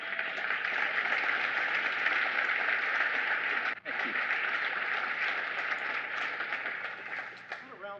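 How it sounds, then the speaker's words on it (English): Dense, even audience applause on a talk show, holding steady with a brief dip midway before tapering slightly toward the end. "Applause for James' suit."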